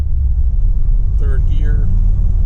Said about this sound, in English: So I'll kind of accelerate a little bit harder here. You can hear it rev up.